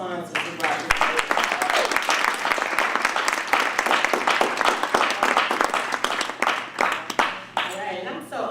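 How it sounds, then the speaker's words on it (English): An audience at a youth summit presentation gives a sustained round of applause, with dense, steady clapping filling the room for several seconds, close and loud, with a few voices mixed in. "let's just give a nice round of applause for all the sponsors who brought this together"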